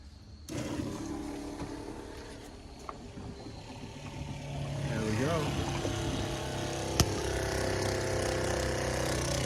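A 12 volt water pump switches on and runs with a steady motor hum and faint whine, starting abruptly and holding a continuous drone under low background noise, with a short sharp click near the end.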